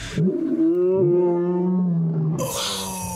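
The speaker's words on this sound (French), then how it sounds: "Il commence à se licher un peu, faire sa crinière, tout se mettre beau pour la caméra, puis là, il pousse un rugissement." A lion roaring: a deep, drawn-out bellowing roar lasting a couple of seconds, loud and close, ending in a breathy exhale.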